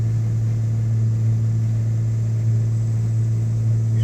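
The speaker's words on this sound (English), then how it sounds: "You just hear that engine purr." Ford F650 truck with an Allison transmission idles with a steady, low droning hum and constant rumble, heard alone and close without any change in pitch.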